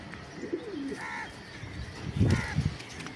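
Racing pigeons on a pigeon farm coo in two short, close bursts over a quiet background.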